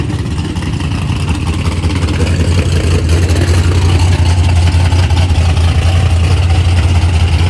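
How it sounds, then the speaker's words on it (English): A loud drag car engine rumbles and revs continuously, its deep throaty drone swelling slightly as it builds, close and alone without talk. "Do a strong burnout, all that revving, ooh wee. He just revving"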